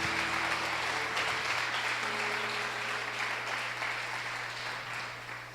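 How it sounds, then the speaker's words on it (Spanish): A church congregation claps through a Sunday service, steady broadband applause filling the space with organ or keyboard tones sustained underneath, gradually easing toward the end. "Aplauda al Señor."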